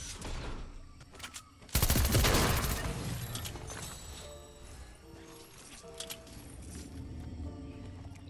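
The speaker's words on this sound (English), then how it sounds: "We're gonna try this pistol out right now" A machine pistol fires in Fortnite, a sudden loud burst of rapid shots after a quieter stretch, followed by lingering clatter and softer mechanical game sounds.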